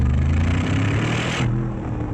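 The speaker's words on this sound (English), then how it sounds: "Great noise as well from that exhaust." A Brabus-tuned Mercedes G63 engine roars loudly through its exhaust, a thick, deep, sustained drone that eases slightly as the car pulls away.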